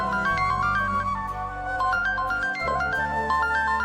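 A mobile phone ringtone plays a steady looping melody of bright electronic notes, continuous and fairly clear at moderate volume, with no talking.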